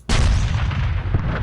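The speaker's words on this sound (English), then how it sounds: "Let's see if I can get some fire support. Our cannons here. Yeah, pound these guys." Cannon artillery fire in the Campaign 1776 game at the Battle of Bunker Hill: a heavy, booming blast erupts and rolls on as a sustained, loud rumble with no voices.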